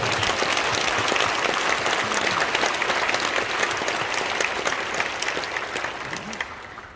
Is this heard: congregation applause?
yes